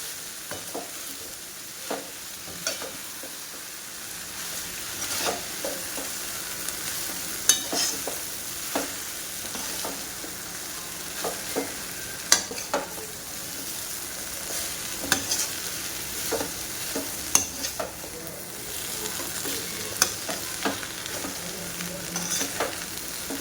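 Jowar hakka noodles stir-fried in a pan make a continuous sizzle under frequent clicking scrapes and tosses of a spatula, irregular and close, running throughout without any voice.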